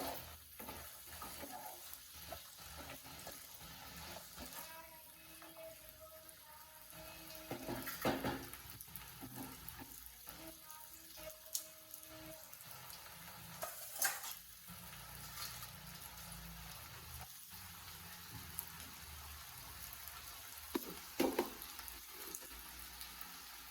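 Peanuts being stirred by hand as they fry in a pan, a soft continuous sizzle with scraping and rustling strokes, fairly quiet with a few sharper clacks.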